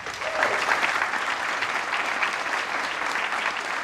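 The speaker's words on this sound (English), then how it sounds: "Another round of applause." A conference audience at Monitorama 2022 gives a steady round of applause after a Q&A session, many hands clapping evenly and fairly loud for a few seconds without letup.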